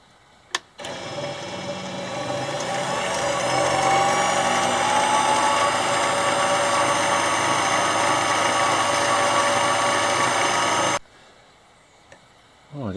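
A power tool carves a groove into a wooden wheel, a sustained buzzing grind that starts abruptly after a brief tap, runs loud and close for about ten seconds, then cuts off, with a faint knock afterward.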